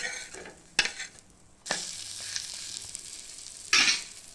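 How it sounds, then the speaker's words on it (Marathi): Egg bread pakoras fry in oil on a nonstick pan, a soft steady sizzle broken by a few sharp bursts of crackling as pieces are stirred or added, close and fairly quiet with no talking. "इथं तव्यावर तेल टाकलं आणि ते असे फ्राय करून घेतले।"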